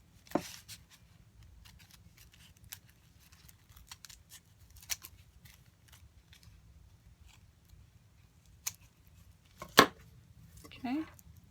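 Scissors cut through coffee filters for paper peonies, a handful of sharp close snips spread over a quiet stretch, with the loudest cuts near the end.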